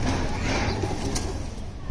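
Pigeons kept for breeding at a home loft coo softly and continuously, close by, with no voices.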